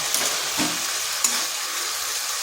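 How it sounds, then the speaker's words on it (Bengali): Cumin, coriander and Kashmiri chilli powders frying with pointed gourd in a pan, a close, even sizzle broken by a few soft stirring scrapes, with no talking. "মশলাটাকে ভালো করে কষে নিতে হবে বেশ কিছুক্ষণ সময় ধরেই কষতে হবে"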